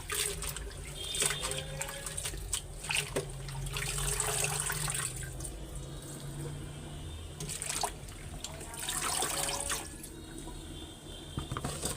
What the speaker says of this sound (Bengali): এখন শাকগুলি ধুয়ে নেই